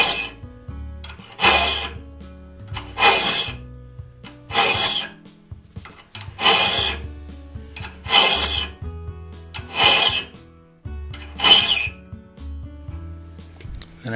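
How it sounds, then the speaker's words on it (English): A hand file rasps in long, even strokes across the raker teeth of a one-man crosscut saw, about eight rhythmic passes close up, each a gritty scrape separated by short pauses. "file off the raker teeth until they're 15 thousandths below the surface."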